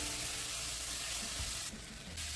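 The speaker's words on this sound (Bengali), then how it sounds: "এখন কড়াইতে তেল দিয়ে জিরো ফোড়ন দিয়ে দিয়েছে" Cumin seeds and green chillies frying in hot oil in a kadai, giving a steady broadband sizzle with low crackle that dips briefly and resumes, with no voices.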